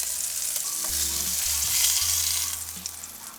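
Sausages sizzling and frying in a pan, a steady hiss with a low hum beneath and occasional stirring or shifting sounds, close and fairly loud with no talking.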